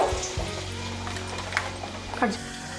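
Flour vadas dropped into hot oil to deep fry, giving a steady close sizzle with small pops and splashes, under someone speaking.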